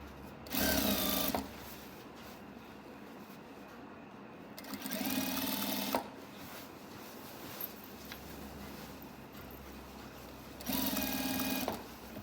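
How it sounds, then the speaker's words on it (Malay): A sewing machine stitches fabric for a telekung prayer garment, running in three distinct bursts of about a second each, separated by quieter pauses with faint handling noise. "Teruskan jahit."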